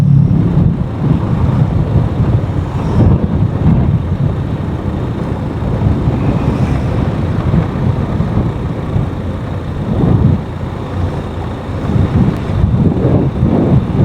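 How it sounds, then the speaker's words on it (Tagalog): Steady wind rushing across the microphone, a low continuous roar with gusty swells, with faint traffic-like rumble underneath, on the Marcos Highway and Asin Road in Sablan, Benguet. "medyo malamig ngayon tong ihip ng hangin"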